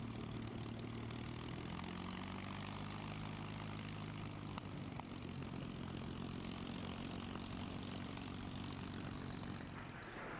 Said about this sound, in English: Flying with it today, the 3 P-51s, the Mustangs.